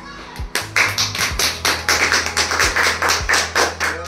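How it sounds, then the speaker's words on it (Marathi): A group of people claps together in steady, fairly fast rhythm at a close family gathering, loud and near, with a few low thuds and a voice briefly audible beneath the applause. "आता आडवा केला आता टाळ्या वाजायचे"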